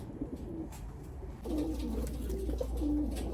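A pair of short-beaked Arab pigeons coos softly and repeatedly over a low background hum, fairly faint, with no talk.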